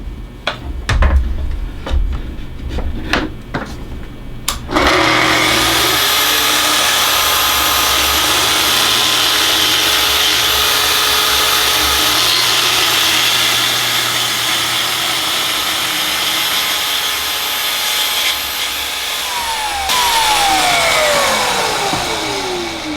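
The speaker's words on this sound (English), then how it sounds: "I have some recycled walnut shelves that I'm going to cut down." A power tool cuts through recycled walnut shelves, a loud steady whine that starts after a few seconds of handling knocks and runs without pause to the end.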